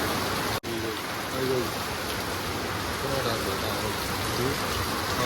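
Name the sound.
rain falling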